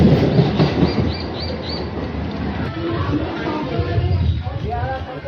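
Passenger train arriving at Payradanga station on the Sealdah–Ranaghat line, rumbling and clattering steadily with wheel squeals, fairly near, while a person talks over it.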